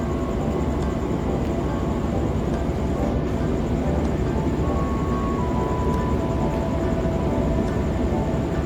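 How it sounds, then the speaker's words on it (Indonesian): The Bengawan passenger train, hauled by a CC 201 diesel locomotive, departs Purwosari station with a loud, steady low engine rumble and rolling noise, continuous and close throughout. "Kereta api Bengawan dengan lokomotif CC 2018353 di Induk Jember berangkat tepat pada waktunya dari stasiun Purwosari"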